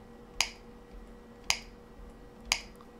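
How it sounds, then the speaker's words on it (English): Three sharp single hand claps, used as an audio sync point, land about a second apart, each crisp and close against a quiet room hum. "Yep, I think that's my hand clap."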